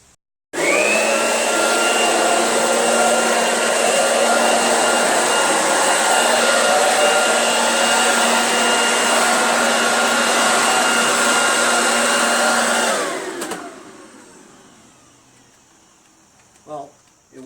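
A Black & Decker electric leaf blower vacuum chipper runs with a loud, steady whining motor roar for about twelve seconds, then winds down and falls quiet, followed by a few faint clicks and knocks.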